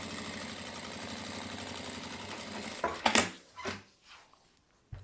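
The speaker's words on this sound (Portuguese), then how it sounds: "E eu passo uma costurinha" A sewing machine runs a short seam in fabric, a steady mechanical whir and rapid stitching chatter for about three seconds before stopping, followed by a few brief handling knocks and near silence.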